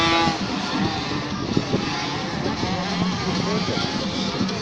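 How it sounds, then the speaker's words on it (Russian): Motocross motorcycles rev their engines at a dirt track, a loud continuous buzzing whine that rises and falls with throttle blips, with crowd noise mixed in. "Они газуют."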